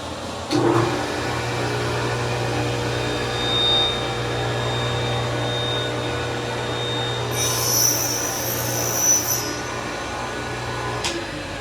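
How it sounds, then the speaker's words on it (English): A shop vacuum runs steadily while fret slots are cut in a guitar fingerboard, a continuous droning hum with a brief higher whine near the middle and a small clunk at the start and end. "I'm going to turn on the vacuum anyway"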